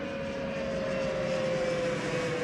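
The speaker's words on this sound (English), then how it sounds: "Another plane." An airplane passes overhead near an airport, a loud continuous engine roar with a steady droning tone holding throughout.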